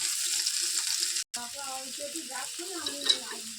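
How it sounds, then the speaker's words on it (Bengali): Cumin seeds sizzle in a little hot oil in the middle of a kadai, tempering for a prawn curry, a steady close crackling hiss that cuts out for a moment and then resumes with light spatters. "কড়াটার মাঝখানটা ফাঁকা করে অল্প কটা জিরে দিয়েছি, একটুখানি তেল দিলাম।"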